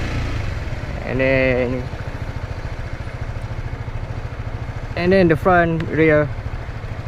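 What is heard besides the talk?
motorcycle engine braking in first gear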